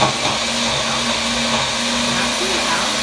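A Mini Magic Bullet blender runs steadily throughout, a loud continuous motor whir with a constant hum.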